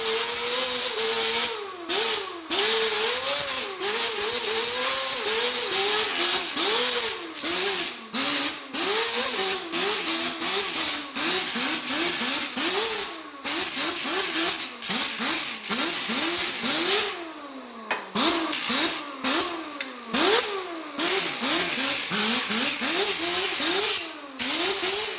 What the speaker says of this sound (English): I'm going to grind that and round out that edge all the way down along there now